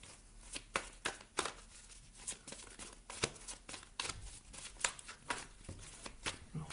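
Tarot cards shuffled by hand up close, quiet and crisp, a run of irregular riffles and slaps repeating roughly every half second with no talk.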